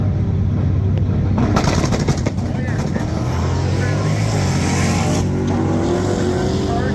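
A Corvette drives past on a northern Michigan road, its engine a loud, steady roar with a rising then fading pass, while people talk over it.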